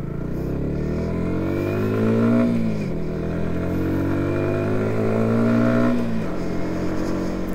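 A Yamaha MT 125 motorcycle engine is heard while riding. It climbs in pitch through two strong revving pulls, each ending in a sharp drop as it shifts gear, and runs loud and close with no talking.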